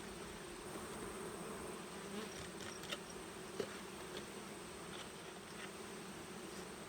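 Honeybees hum in a faint, steady drone while being drawn up into a small handheld suction device in a beekeeper's yard, with a few soft clicks and taps over the buzz.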